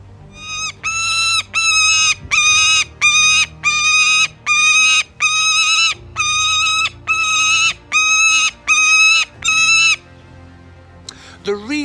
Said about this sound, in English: The reason Gulliver is sometimes quite noisy is because he's an imprint falcon.